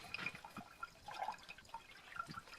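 Laundry waste water trickles and drips through a DIY sand filter, with faint, irregular gurgles and droplets that come and go.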